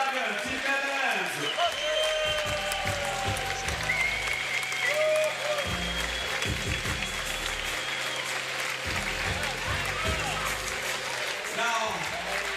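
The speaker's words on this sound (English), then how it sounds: "A big round of applause, ladies and gentlemen, for the Women Europe Cup winner, Copenhagen, Team Netherlands." Crowd applause at a FIBA 3x3 Europe Cup women's basketball final ceremony in Copenhagen, sustained clapping and cheering across the arena beneath an announcer speaking over a PA.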